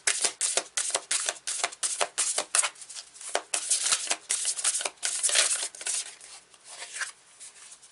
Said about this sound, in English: Let's grab a card from here and see what it has to say